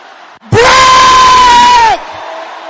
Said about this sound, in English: There is somebody who needs to shout this loud and clear.